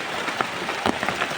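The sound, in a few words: heavy rain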